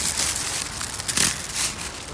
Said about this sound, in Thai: ฝนตกปล่อยปล่อย